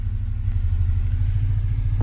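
A car drives in the Minecraft video game, giving a low, steady engine rumble that holds throughout, with a faint clatter near the end.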